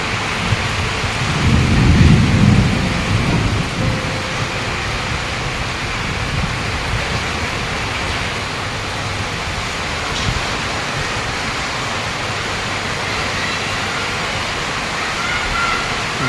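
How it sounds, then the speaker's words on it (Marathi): The first heavy rain of the season in Dombivli pours steadily throughout, with a deep rumble of thunder swelling early on before fading into the constant downpour. "बघा डोंबिवलीचा पहिला पाऊस"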